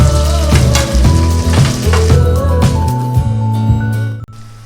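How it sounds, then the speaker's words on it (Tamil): Chopped onions frying in hot oil with whole spices for a Tamil mutton meal, a steady close sizzle with bursts of crackle and a few stirring clinks, thinning toward the end. "வெங்காயம் ஓரளவுக்கு ஃப்ரை ஆகிடுச்சு."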